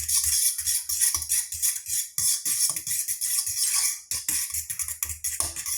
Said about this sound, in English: We take our fork or spoon, whatever you want to use. We'll mix this.